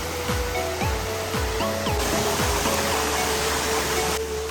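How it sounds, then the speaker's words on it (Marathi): A waterfall flows with a steady broad rush close by, while intermittent tonal chirps sound over the water and no one speaks. "मस्त वाटतं पण वाहतं वॉटरफॉल"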